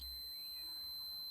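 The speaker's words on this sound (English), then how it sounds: "That beep tells us that we have continuous path to earth." A multimeter continuity-test beep while wiring a car stereo in a 2008 Citroen C1: a steady high-pitched electronic tone held for about a second, fairly quiet with no voices.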